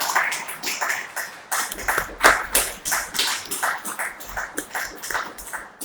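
A church congregation claps loudly and unevenly for Jesus Christ, sharp close hand claps with brief surges and a dull low rumble under them.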